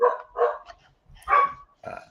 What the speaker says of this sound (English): Sorry, here go the dogs.